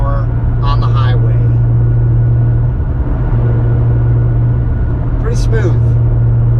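Honda NSX sports car with a nine-speed dual-clutch gearbox cruising at highway speed, a steady loud engine drone and road roar throughout with a low constant hum, while a person speaks briefly twice over it.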